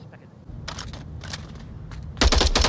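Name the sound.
gunfire in Onward VR video game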